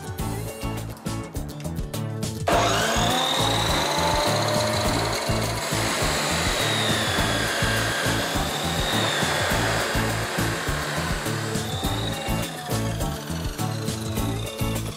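An abrasive cut-off saw, a chop saw used in metalwork, grinds through a steel flat bar in a loud, sustained, close-up whine with a steady rumbling hum, starting abruptly after a short lead-in.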